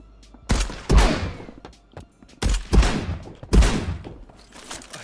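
Shotgun fire in the video game Marauders: three loud, close blasts with heavy booming thumps, arriving at uneven intervals with short decaying tails between them.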